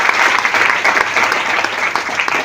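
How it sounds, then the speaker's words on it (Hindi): Audience applause at a business seminar, a dense burst of clapping from a crowd filling the whole stretch without speech. "एक बार ताली होना चाहिए।"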